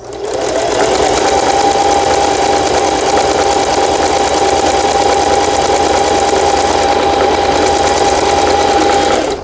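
Singer sewing machine, a 4432 model under repair, running a zigzag stitch: a continuous loud, even mechanical hum with a rapid needle rattle, steady from start to finish, no voices.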